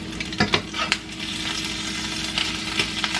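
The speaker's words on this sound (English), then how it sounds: "fry up a little more." Taco filling fries steadily in a pan, a continuous close sizzle with a few sharp clinks and scrapes of a utensil stirring early on.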